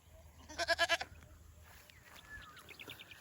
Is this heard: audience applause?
no